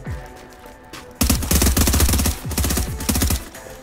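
Rapid automatic gunfire from a PC shooter game, loud and close, in dense bursts with brief pauses between volleys, with no talk over it.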